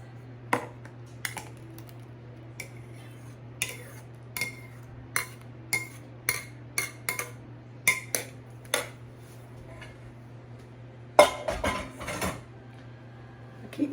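A utensil clinks and scrapes against a wide shallow bowl as ingredients are mixed, giving sharp irregular taps at a moderate distance over a low steady hum, with no talking.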